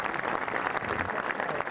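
Spectators at a golf match clap steadily and densely through the whole stretch, a continuous patter of hands at moderate volume with no voices on top.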